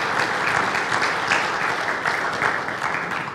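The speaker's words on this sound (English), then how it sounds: "can we just give it a round of applause for them being up here?" Church audience applauding guests Candace and Kevin, a sustained dense round of clapping from a large crowd, steady and loud throughout.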